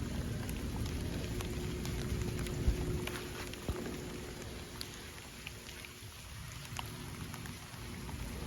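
Heavy rain pours down steadily over an outdoor garden with a dense continuous patter, a few sharper drops and knocks rising above it, no talk.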